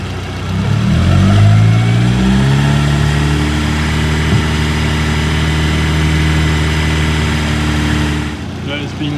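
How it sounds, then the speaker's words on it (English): A rear-wheel-drive Mk2 Scirocco with a 1.8T 20v engine revs steadily and loud up close, running smoothly for several seconds with a strong low drone, then cuts off near the end. "Absolutely no smoke out the exhaust now either, revving away quite clean."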